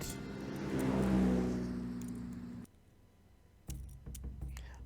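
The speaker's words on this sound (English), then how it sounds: "what we're hearing are cars passing" In the video game Nancy Drew: The Secret of Shadow Ranch, a car swells past nearby on a highway with a rising and fading engine rush, then a brief lull before another vehicle roars in close.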